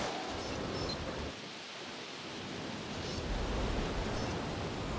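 Steady rain and a thunderstorm in the Jurassic World Evolution game, a broad continuous hiss with a low rumbling swell, no talk over it.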